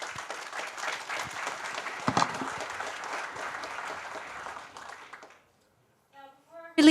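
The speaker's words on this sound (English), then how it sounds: "And big round of applause for Philip." Audience applause at a tech session on research-to-operations technology innovations, a steady sustained clapping from a room of people lasting about five seconds, then fading out to silence before a brief voice at the end.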